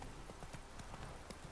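A horse galloping in The Witcher 3 video game, with quick rhythmic clip-clop hoofbeats repeating steadily at low volume and no voices over them.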